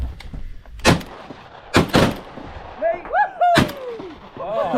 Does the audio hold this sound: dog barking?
no